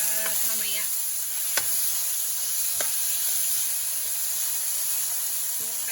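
Shrimp paste sizzling in a hot frying pan, a steady bright hissing fry with a couple of sharp clinks of a utensil against the pan, close and continuous.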